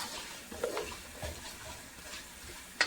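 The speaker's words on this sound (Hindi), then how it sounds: "इन सब स्पाइसेस को हम हल्का भून लेंगे ऑयल में।" Whole spices for kabsa gently frying in oil, a soft low sizzle with a few stirring scrapes and a light clink of a pot near the end, close and quiet with no talk.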